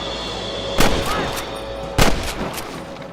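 Gunfire in the Red Dead video game: two loud, sharp gunshots about a second apart, each with a short echoing tail over a steady game background, followed by a fainter third pop.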